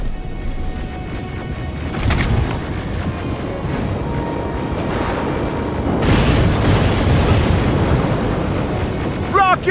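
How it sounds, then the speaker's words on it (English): Rocket explosions in the Terminator: Resistance video game, with heavy booms erupting around two and six seconds over a continuous loud rumble of battle noise. "Rockets! They're heading this way!"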